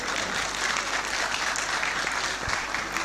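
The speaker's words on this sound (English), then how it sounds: "Please, let's stop clapping so that we have a proper communication channel." An audience at a township debate in Garissa breaks into loud, sustained applause, a dense wash of many hands clapping together with a faint crowd murmur beneath it.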